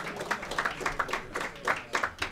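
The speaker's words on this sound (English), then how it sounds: "Applause, please." Applause at an IETF Hackathon presentations and awards session, a scattered crowd clapping in uneven bursts, moderately near and sustained throughout without any speech.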